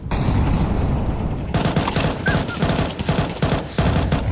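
Rifle gunfire in Counter-Strike during a professional match, loud rapid bursts of shots with short gaps between them, after a brief quieter lead-in.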